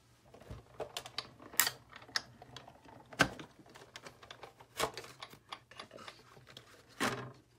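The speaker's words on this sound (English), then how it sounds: "now let's die cut this panda" A paper-crafting die-cutting machine pressing a panda-shaped die through paper, heard as a string of sharp clicks and mechanical knocks with a few louder thumps, close and fairly quiet, with no talking.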